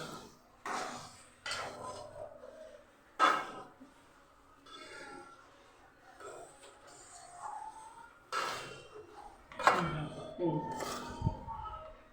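Sweet ingredients stirred in a pan at home, with scattered scraping and metal clinks of a spoon against the pan, under intermittent nearby talking and breathing.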